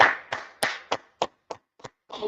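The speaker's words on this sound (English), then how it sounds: "Let's clap it up for the Lord." Eight slow, evenly spaced hand claps ring out close and clear, with the last one blending into a short murmur.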